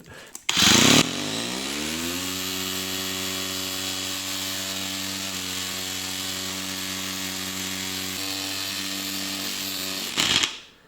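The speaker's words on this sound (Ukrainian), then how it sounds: "взяв ось таку дощечку і давайте одразу тут спробуємо це все діло відшліфувати" An angle grinder with a sanding attachment roars to life, runs at a steady whining drone for several seconds while sanding a wooden board, then cuts off abruptly.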